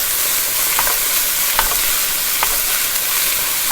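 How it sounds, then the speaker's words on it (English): Apples and mangoes stir-fried in a pan give a steady, loud sizzle with a few brief stirring scrapes and no voices. "we're going to stir fry this for just a minute"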